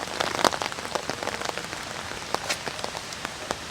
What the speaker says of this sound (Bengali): এখন অ্যাকচুয়ালি বৃষ্টি হচ্ছে, আমি ছাতা নিয়ে ভিডিওগ্রাফি করছি